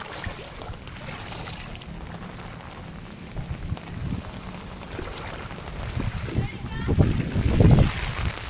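Floodwater from Cyclone Michaung in Pallikaranai, Chennai, sloshing and splashing in a steady churn that swells louder toward the end, with people talking underneath.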